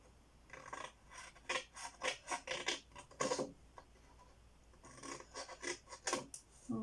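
Scissors snip repeatedly through paper while an explosion box is being made, a close, quiet series of short crisp cuts in uneven bursts with brief pauses between them.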